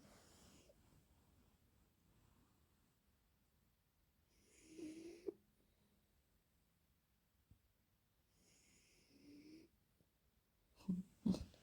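A sleeping child snores softly on a quiet Christmas morning, with a few faint, separate snoring breaths and snorts spaced seconds apart and a louder pair at the end.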